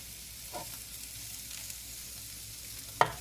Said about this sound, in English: We're just going to stir all this up.